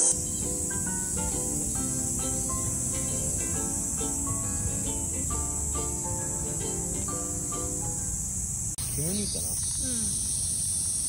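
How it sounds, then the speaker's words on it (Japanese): Cicadas in summer produce a steady, loud, buzzing drone that fills the whole stretch, with a shift in the chorus near the end, at an outdoor picnic setting. "セミの鳴き"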